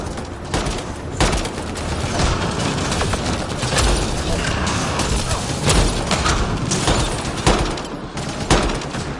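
Dense, continuous gunfire in Mass Effect Andromeda combat, with rapid shots and impacts crowding each other loudly and steadily for the whole stretch, over a busy battle bed and no clear talk.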